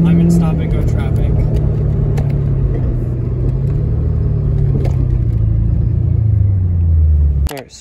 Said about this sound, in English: On my way to the stables, and as usual, I'm in stop and go traffic.